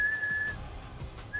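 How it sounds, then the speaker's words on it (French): A referee's whistle gives a long steady high blast during a football match, then a short second toot begins near the end, faint and with no one speaking. "on me dit que l'arbitre vient de siffler"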